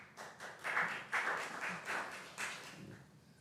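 A small audience at a city council meeting claps in short bursts of several claps each, close and fairly quiet, with no voices over it.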